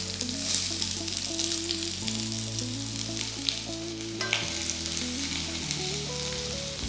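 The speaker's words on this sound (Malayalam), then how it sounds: "ഇതിലേക്ക് ഒരു വലിയ സവോള സ്ലൈസ് ചെയ്ത് അതിനകത്തേക്ക് ചേർക്കാം." Sliced onion frying in hot coconut oil gives a steady, close sizzle for the whole stretch. Music plays underneath it.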